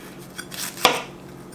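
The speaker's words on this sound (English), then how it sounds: "So just keep chopping." Knife chopping a bell pepper on a cutting board: a few light taps followed by one crisp, louder chop, close by and without talk.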